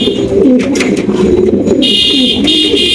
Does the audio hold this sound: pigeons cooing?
yes